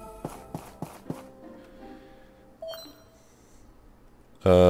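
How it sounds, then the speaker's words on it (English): A video game beep in My Time at Portia: four quick bright beeps in a row, then a pause, a short electronic chirp, and a sudden loud burst at the end. "I heard a little beep."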